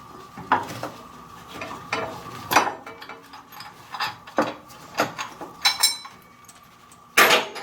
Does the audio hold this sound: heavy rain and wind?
no